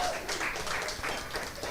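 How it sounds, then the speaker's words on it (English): Audience clapping at a spoken word poetry event, a short stretch of dense applause from a crowd, steady and fairly close, with voices mixed in. "Y'all was so anxious to clap for that"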